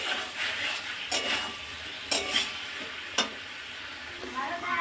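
Snails (gendi) with turmeric, Kashmiri chilli, bay leaf, ginger-garlic paste and dried chilli paste sizzle steadily in a pan, broken by a few sharp scraping stirs close by, with no one talking.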